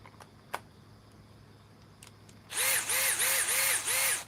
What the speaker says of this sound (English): it does work on the 805 DeWalt hammer drill